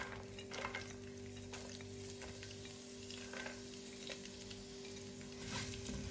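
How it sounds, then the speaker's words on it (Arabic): Onion, garlic and ginger sizzling with spices for an Indian chicken curry, a continuous crackling fry close by with occasional stirring scrapes and no talking. "كمان بقليهم مع بعض."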